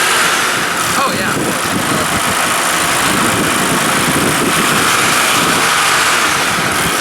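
A car engine idles loudly and steadily at close range, its exhaust rumbling throughout while people talk over it.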